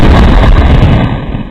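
A single very loud, close gunshot-like blast with a booming low-end body that rings out and decays over about a second.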